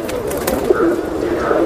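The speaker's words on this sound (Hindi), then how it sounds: "ये सब कबूतर एन पेट शॉप पे मिलने वाले हैं।" Border pigeons at a pet shop in Andheri East, Mumbai, coo in low, rolling murmurs, close and fairly loud, with faint talk in the background.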